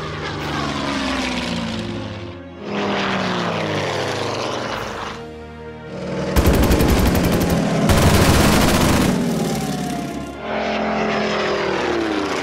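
A propeller warplane in the WW2 strategy game Order of Battle, loud engine drone sweeping past in waves, broken by harsh bursts of rapid machine-gun fire in the middle, with brief dips between passes.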